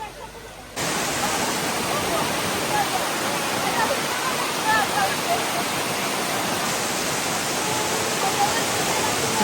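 Rushing roar of a dangerous waterfall near a road during a family trip, a steady broadband wash of falling water that holds loud and unbroken after a brief quieter start.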